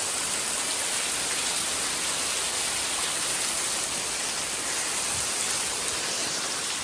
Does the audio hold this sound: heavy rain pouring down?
yes